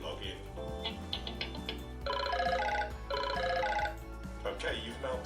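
A telephone rings in two trilling bursts in a simulated call-center scenario from an e-learning exercise, sounding over steady background music while a voice talks between the rings.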